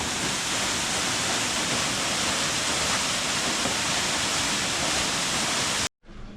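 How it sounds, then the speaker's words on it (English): Murky water released from an unblocked levada drain pours down a hillside as a waterfall in Madeira, a loud steady rushing roar close by that cuts off abruptly near the end. "A man here's just unblocked the drain on one of the levadas, and it's all flowing down there, creating a very nice waterfall"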